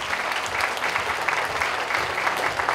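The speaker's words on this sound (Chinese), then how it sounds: "请给自己一个热烈掌声。" An audience at a civic awards opening ceremony in Kaohsiung applauds, dense, continuous clapping from a sizable hall crowd at an even level throughout.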